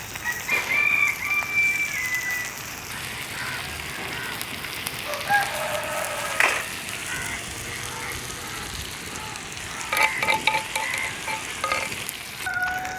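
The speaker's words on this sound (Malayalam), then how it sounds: "നമ്മളെ കൊഞ്ച് കുക്കായിരുന്നു, നല്ല രീതിയിൽ മുരിഞ്ഞ് വന്നിട്ടുണ്ട്." Prawns frying on a hot stone outdoors give a soft, continuous sizzle with occasional scraping stirs, while a rooster seems to crow faintly in the background.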